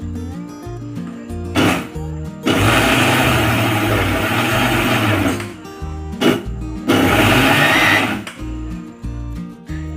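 Kitchen mixer grinder blitzing niger seed chutney in loud bursts: a brief pulse, a long steady whir of several seconds, another short pulse, then a second sustained grind, with no talking.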